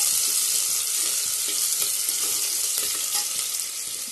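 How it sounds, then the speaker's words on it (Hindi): Onion and cumin fry in hot oil, a steady loud bright sizzle that fills the whole stretch with no voices. "मैंने प्याज और जीरा डाल दिया है गाइस,"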